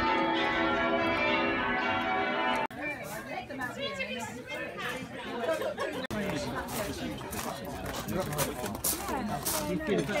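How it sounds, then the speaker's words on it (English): Church bells in Widecombe ring with sustained, layered tones for a few seconds, then fade into lively crowd chatter and children's voices. "Hey, the church bells."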